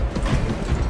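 Ammo restocking in Warhammer 40,000: Space Marine II, heard as a quick run of close mechanical clicks and ratcheting over about a second.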